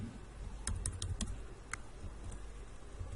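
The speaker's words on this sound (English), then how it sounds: "and type the file name" A file name is typed on a computer keyboard as a quick cluster of light key taps, then a few scattered presses. The keystrokes sound close but quiet over a low background hum, and no one speaks.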